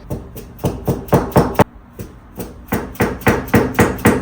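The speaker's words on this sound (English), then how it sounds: "we're pounding in this lip here" Repeated hammer blows pounding in the fender lip of a Golf R, a sharp close series of evenly spaced metallic knocks with a brief pause midway, loud and alone.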